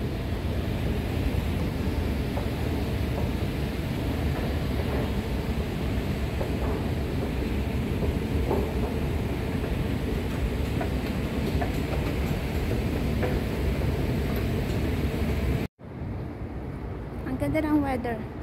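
Steady rumbling noise of a Singapore MRT Brown Line train with low clatter fills the ride, people talking under it, then a sudden cut to quieter ambience.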